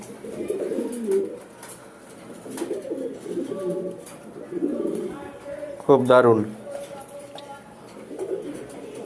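A pair of racing pigeons coos softly in low, throaty bursts under someone talking nearby, with a brief louder flutter of sound partway through.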